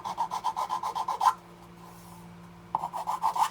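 A metal file rasping a burr off a small HMS Bounty model ship part, quick rhythmic back-and-forth strokes close up, a short pause, then another run of strokes.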